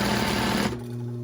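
A sewing machine runs briefly while sewing a large multicolored basket with handles, a close, steady whir that stops abruptly partway through and leaves a faint hum.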